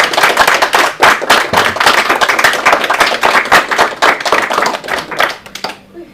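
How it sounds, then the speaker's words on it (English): An audience applauds at the close of a talk about the fearless organization, with loud, close, rapid clapping that continues for several seconds before tapering off. "Applause for Roger and Anders."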